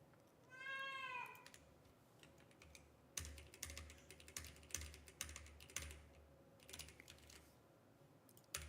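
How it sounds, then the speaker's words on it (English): A pet cat gives a short, clear meow near the start, in a quiet room during an old-school coding session, followed by steady computer keyboard typing that continues in bursts. "Cat saying hi."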